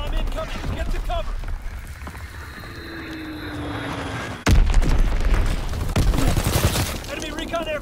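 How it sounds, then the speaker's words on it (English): Enemy mortar rounds and bombs crash down in Call of Duty WWII gameplay, a low rumble building before a sudden loud blast with a long roaring tail, followed by more booming impacts; gunfire crackles and voices talk throughout. "Enemy mortar fire incoming."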